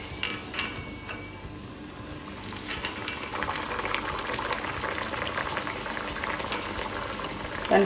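Small puris fry in hot oil, giving a steady, fizzing bubble that swells slightly louder over several seconds, heard alone and close.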